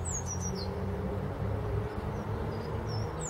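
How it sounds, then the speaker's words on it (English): A blue tit or great tit sings in trees at an allotment: a few thin, high chirps, fairly distant and faint, over steady outdoor background noise. "Birds are singing in the trees. That's a blue tit there,"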